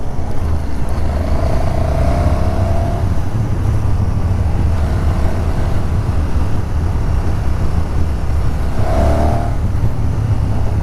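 KTM 1290 SuperDuke R motorcycle engine pulling hard under acceleration, a loud, continuous low roar with rising whine and wind rush throughout, heard close from the rider's position with no talk.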